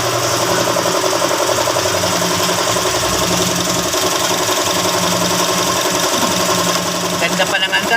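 A Honda CR-V engine idles after an air cleaner change, a close, steady mechanical hum with a fine, even ticking rhythm running throughout.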